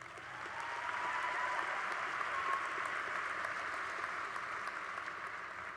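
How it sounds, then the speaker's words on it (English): An NDSU spring commencement crowd applauds after a brass ensemble's performance, making a distant, even wash of many hands clapping that holds steady and fairly faint throughout. "Give them a round of applause."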